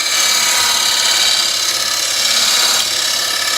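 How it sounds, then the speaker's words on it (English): A wood lathe turning a re-chucked bowl, spun up to about 1,000 rpm, gives a steady, loud, continuous high whir with a constant hiss throughout, no voices. "We can turn the lathe speed up now a little bit because we've got rid of a lot of that unevenness."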